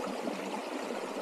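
Small brook trout stream flowing, a steady broadband rush and trickle of water, continuous and moderately near, with no voices.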